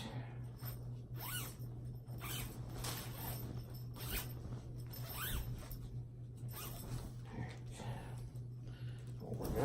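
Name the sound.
zipper being unzipped on a mattress foundation cover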